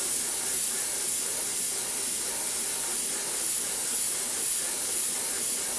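An airbrush or spray gun hisses continuously while laying a silver base coat onto a swimbait lure, a steady, close, loud airy spray with no pauses.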